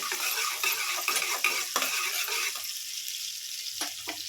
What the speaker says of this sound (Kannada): ಈರುಳ್ಳಿ ಫ್ರೈ ಮಾಡ್ಕೊಳ್ಳೋಣ